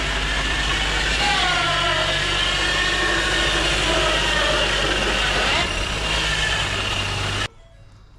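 A failing bearing inside a Ford hybrid's transmission gives a steady high whine while driving, heard up close as a continuous drone over road and engine noise that cuts off abruptly near the end.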